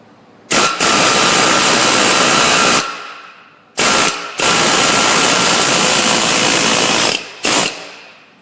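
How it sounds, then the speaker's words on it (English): An air hammer pushes out a Ford Fusion half shaft in three loud, close bursts of rapid pneumatic hammering, each lasting one to three seconds and separated by short pauses. "then I can finish with the air hammer"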